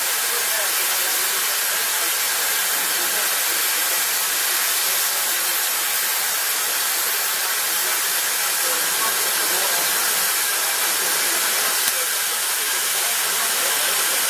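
Steam hissing through a vertical injector at roughly 30-50 psi with cold water feed, a loud continuous broadband rush that stays steady and close throughout.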